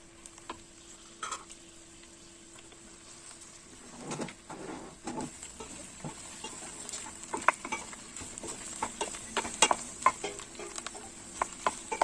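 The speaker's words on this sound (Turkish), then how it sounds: "Sadece yarım çay bardağı sıvı yağ ilave ediyorum ve hafiften kavuracağım" Quiet sizzling of peppers sautéing in oil for menemen, with irregular scraping and stirring clicks, growing busier toward the end.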